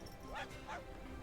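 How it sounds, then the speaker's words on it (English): A short growl from a small fox creature in the digital card game Magic: The Gathering Arena, two quick yelping bursts close together in a second, faint over quiet game background. "The little fox growls at me when I counter your spell."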